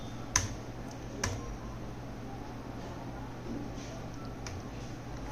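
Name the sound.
hitting the Enter key on a keyboard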